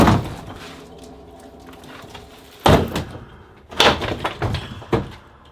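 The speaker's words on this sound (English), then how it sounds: "We're gonna have to use the last resort, which was the 16-pound sledgehammer, as our first resort" A 16-pound sledgehammer strikes a door to break in, three loud, heavy thuds landing in an irregular rhythm after a quieter stretch of low rumble.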